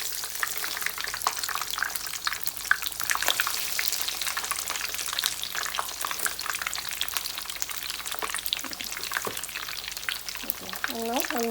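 Veg cutlets, or patties, sizzling in hot oil in a pan, a constant crackling hiss with scattered pops and occasional stirring or scraping, a brief faint voice near the end.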